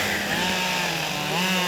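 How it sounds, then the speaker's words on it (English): A chainsaw cross-cutting willow logs into 28-inch pieces for cricket bats, a loud, close, continuous high engine whine under load with slight pitch shifts as it bites through the wood. "This starts with cross-cutting the logs into 28-inch pieces with a chainsaw."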